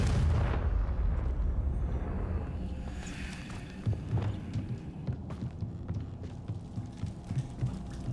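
A fiery blasting spell goes off in the video game Hogwarts Legacy. A heavy, booming explosion opens with a deep rumbling tail that fades into lighter thuds and crackles.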